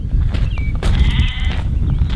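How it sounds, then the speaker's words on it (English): An escaped sheep on a homestead gives one loud, close, wavering bleat in the middle, with rustling and outdoor background noise around it. "What we have is a sheep that's decided to escape"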